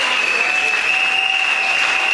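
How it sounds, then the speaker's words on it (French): A church congregation applauds loudly and steadily for the Lord Jesus, a dense wall of clapping with a sustained tonal ring running through it, continuous for the whole stretch. "Est-ce qu'on peut acclamer très fort le Seigneur Jésus?"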